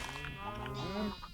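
Sheep bleats from Minecraft livestock on a community farm, wavering tonal cries repeating close by while someone talks over them.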